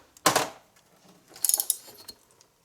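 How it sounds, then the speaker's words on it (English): A ratchet and socket tightens the flywheel nut on a two-cycle leaf blower engine, giving two short bursts of close metallic clicking with a brief gap between them. "Now I'm going to tighten this up with a ratchet and a socket."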